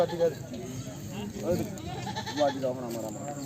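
A pregnant black goat bleats a few times at close range at a goat market, its wavering cries overlapping with people talking nearby.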